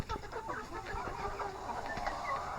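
Silkie chickens of mixed colours, including a buff rooster, cluck and murmur close by in a steady, busy chorus with no talking.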